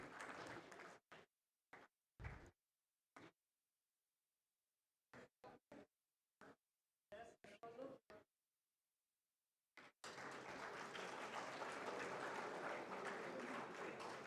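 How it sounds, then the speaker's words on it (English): Audience applause at a startup summit award ceremony, heard as several short bursts of clapping separated by silences, then a sustained stretch of steady applause at the end. "Please keep clapping so that they all get impetus and encouraged."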